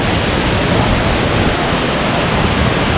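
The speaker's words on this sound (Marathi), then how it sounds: "अमेझिंग यार, खूप जबरदस्त आहे वॉटरफॉल." Sundi waterfall near Chandgad in Kolhapur, Maharashtra, roaring as a loud, dense, unbroken rush of falling water heard close up with no voices.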